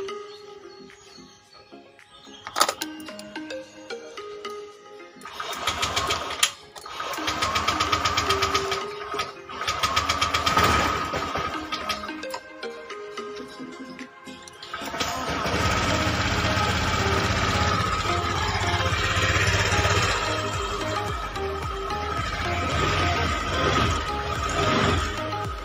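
A Honda Vario scooter with its radiator opened up after coolant sprayed out is cranked with some clattering, then catches and settles into a steady, close idle for the final ten seconds, with someone talking early on.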